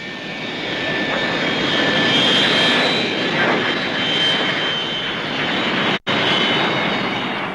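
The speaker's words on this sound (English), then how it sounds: "The use of reverse thrust enables it to operate from quite small airfields." A de Havilland Comet 4 jet airliner uses reverse thrust. A loud, sustained broadband jet roar swells and holds for several seconds, with one abrupt cut near the end.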